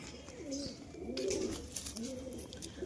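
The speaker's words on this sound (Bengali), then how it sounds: "এই হচ্ছে নর কবুতর, এটা খুব সুন্দর একটি কবুতর" A male racing pigeon gives soft, close cooing phrases, a few rolling coos in quick succession with no talk over them.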